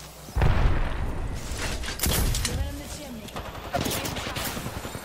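Gunfire in a shooter video game, repeated bursts of shots and sharp pops over steady game noise, with players talking throughout.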